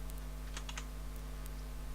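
Keyboard typing at a desktop computer: a few scattered, faint key clicks over a steady low hum, no talking.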